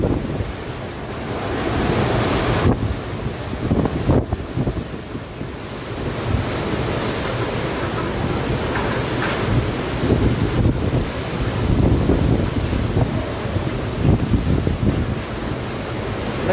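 Strong wind from Super Typhoon Rolly (Goni) in Naga City, Philippines, roars continuously with heavy rain, a steady loud rushing that buffets the microphone, with occasional gusts swelling and fading.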